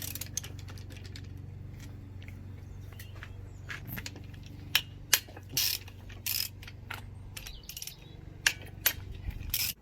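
A ratchet wrench clicks in short bursts while loosening engine bolts on a Volkswagen Polo during an engine strip-down, sharp ratcheting ticks scattered over a low steady background hum, close and fairly quiet.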